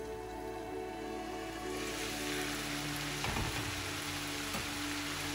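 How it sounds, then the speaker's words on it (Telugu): Moong dal sizzling steadily in a pan while it softens, a continuous close hiss of frying with faint crackles throughout and no talk. "పెసరపప్పు కొద్దిగా మెత్తగా అయ్యే వరకు దీనిలో వేగించుకోవాలి"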